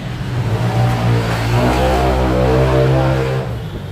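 A Mitsubishi L300 2011 engine runs at a steady idle, close and even, with a low continuous hum and no speech over it while its bearing is checked for noise.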